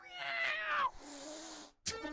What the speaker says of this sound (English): The death noise of the cat is amazing.